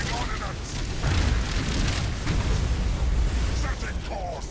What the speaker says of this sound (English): All the Necron ships are exploding.